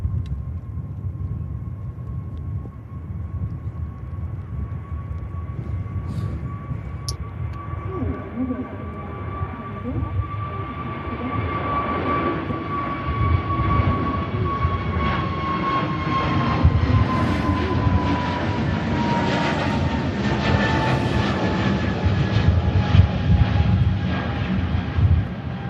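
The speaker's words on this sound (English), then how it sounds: "EasyJet on the roll out to Milan." An EasyJet Airbus A320neo starting its takeoff roll at Manchester Airport builds from a distant whine into a swelling, rumbling engine roar that grows louder over about twenty-five seconds, heard from a distance with a person talking over it.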